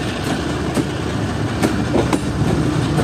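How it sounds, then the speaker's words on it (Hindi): A Tezgam passenger train pulls away from a railway station, giving a loud, steady rolling rumble with periodic clicking wheel beats close by and no voices. "जामिया खान रेलवे स्टेशन को अलविदा कह दिया है ट्रेन ने"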